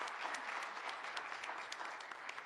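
Applause from an audience at a forum on women in law in Mexico, a steady, fairly faint patter of many hands clapping at a distance.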